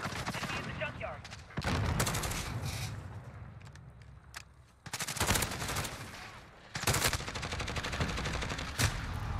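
Rapid video-game gunfire in a multiplayer hard-point fight, dense bursts and bangs crackling loudly across the whole stretch with brief lulls between volleys, a voice calling out faintly beneath.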